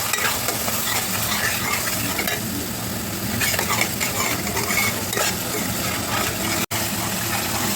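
Chili powder and salt spice masala being stirred and fried in a pan for doi katla, a steady dense sizzle with scraping stir strokes throughout, close and loud, with one abrupt brief dropout near the end.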